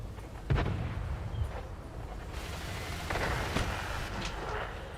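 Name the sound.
tank gunfire in a tank video game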